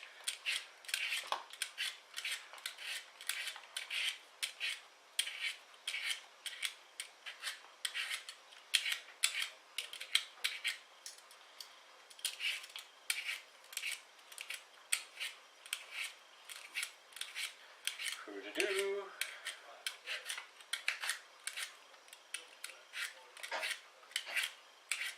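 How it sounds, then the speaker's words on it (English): A medium-sized potato being peeled by hand, a long series of quick, close scraping strokes in an uneven rhythm, crisp and fairly faint, with a brief knock partway through. "We've got to peel our potato."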